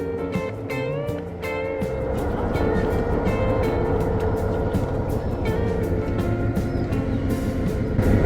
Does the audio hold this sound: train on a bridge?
yes